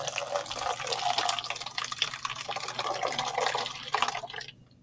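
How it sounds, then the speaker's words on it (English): Hot liquid pours into a 2-liter bottle in a lab demonstration, making a continuous splashing, gurgling stream that stops abruptly at the end, with no talk over it. "you're going to pour the hot liquid into a 2-liter bottle"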